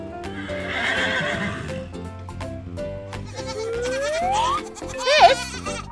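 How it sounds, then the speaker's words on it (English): A horse whinnies with rising and falling squeals, accompanied by hoof clip-clops and background music; a sharp, loud neigh ends the sequence. "This is a horse, and horses go neigh."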